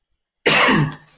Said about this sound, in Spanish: Te oímos toser perfectamente.